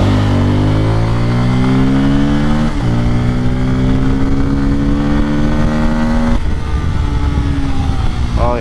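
A 250cc Kawasaki Pulsar N250 motorcycle accelerates hard, its loud engine close by and rising steadily in pitch through one gear, dropping back, then climbing again in a second strong pull.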